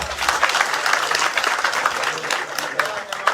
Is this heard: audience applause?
yes